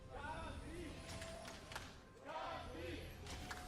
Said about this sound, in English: You can hear the fans ready, cheering for their respective teams.